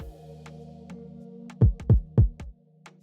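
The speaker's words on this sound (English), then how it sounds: "Then I have a kick, very basic kick." Three punchy, deep kick drum hits in quick succession stand out over a soft, tonal electronic Afrobeat pattern in FL Studio with light ticks.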